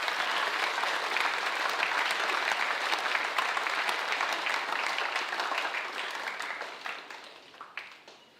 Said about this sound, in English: Please give a round of applause for the Year 12 Academic A winners.